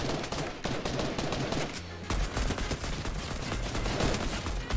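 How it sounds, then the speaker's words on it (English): A charge shotgun fires in the video game Fortnite, with loud, dense bursts of close gunfire and a short gap before another heavy blast, set against game background noise. "I don't like the charge shotgun. Because it's kind of, it just takes so long to just shoot the gun."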